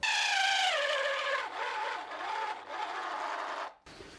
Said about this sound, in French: Tu vois que ça tourne, mais clairement le moteur il force.